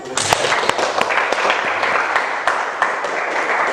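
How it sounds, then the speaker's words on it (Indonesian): A classroom group bursts into applause, dense clapping with a few sharp individual claps standing out, lasting a few seconds at close range. "Tepuk tangan."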